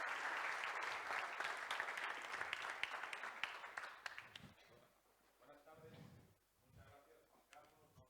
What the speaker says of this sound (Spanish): un aplauso para Ángel, por favor.